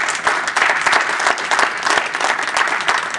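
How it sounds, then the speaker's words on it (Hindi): An audience at an Urdu Academy poetry program applauds to welcome a poet, a dense, steady wash of many hands clapping, loud and continuous throughout with no voices over it. "भरपूर तालियों के साथ तशरीफ लाते हैं"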